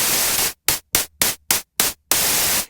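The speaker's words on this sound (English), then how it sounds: "And then you have white noise" Bursts of hissing white noise from the u-He Hive 2 software synth's noise oscillator, a long burst, then five short gated pulses, then another long burst, loud and alone.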